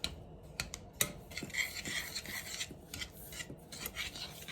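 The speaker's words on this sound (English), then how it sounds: "Just stir it around." Softened butter and sugar stirred in a bowl, a continuous scraping rasp with occasional light clinks of the utensil against the side, close and quiet.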